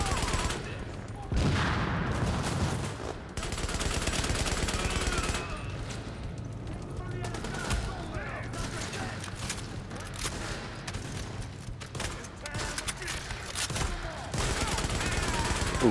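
Gunfire from The Division in Times Square: dense, rapid bursts of automatic shots and sharp blasts crackle nearly nonstop, loud and close, with a few short pauses.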